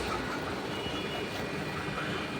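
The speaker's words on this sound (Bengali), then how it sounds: "এই রানাঘাট জংশন রেলওয়ে স্টেশন, এখান থেকে আমি এখন কলকাতা শিয়ালদা হয়ে আমি বাঘাযতীন যাচ্ছি।" A train at Ranaghat Junction railway station gives a steady, loud rumble with broad noise that holds evenly throughout, with no distinct horn or clatter standing out.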